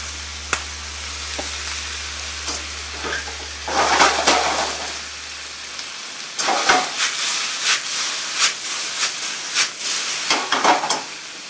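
Shrimp and tofu fry in a pan with Cajun spice, giving a steady loud sizzle and hiss with bursts of crackling as the food is stirred. A low hum drops away partway through.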